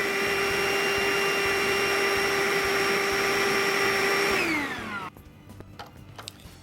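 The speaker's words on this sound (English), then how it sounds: "By the way, this is a wet and dry vacuum, so you can use it on liquids as well." An Ainope cordless wet and dry vacuum cleaner runs with a steady high-pitched motor whine, then its pitch drops as it switches off and winds down, leaving only faint clicks and handling noise.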